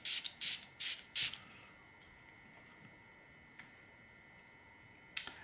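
A spray bottle gives four quick bursts of mist in rapid succession, close and fairly loud, followed by near silence with a couple of faint ticks and one last short spritz at the end.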